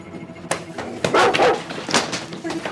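A dog barks and yips in a few sharp bursts inside an apartment, fairly close and mixed with other noise and some voices.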